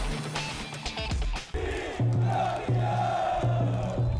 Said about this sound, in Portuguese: Gritos de campeão e som dos tambores